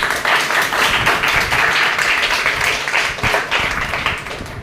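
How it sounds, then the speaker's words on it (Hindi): A church congregation clapping loudly and continuously during a worship service, a dense, steady wash of many hands close by that tapers slightly near the end. "चलिए यीशु के लिए जोर से ताली मारो।"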